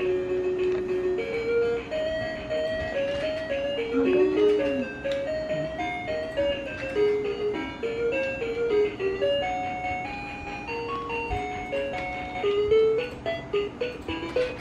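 A VTech Playtime Bus with Phonics toy plays a bright electronic phonics melody, steady and fairly loud with a simple repeating tune throughout, close by.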